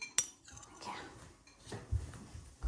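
Spoons clink and dishes knock in a home kitchen as yogurt is served, with scattered metallic chinks and clatters, quiet speech murmuring in between.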